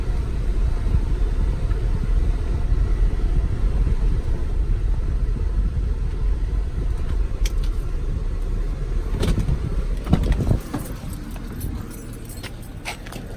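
A 2004 Acura RL on the road, its steady low engine and tire rumble filling the cabin throughout, with a few brief clunks and knocks near the end as the front end thumps.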